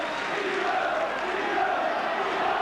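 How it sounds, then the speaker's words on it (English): A large rugby league crowd at a St Helens versus Australia match chants in unison, a rhythmic, repeating roar of voices that carries steadily and loudly across the stadium. "They're chanting Viva's name."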